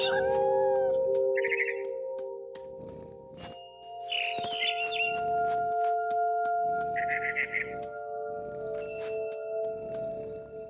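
A cat meows a few times in the video game What Remains of Edith Finch, over a sustained synthetic drone, with short chirpy bird calls scattered in between.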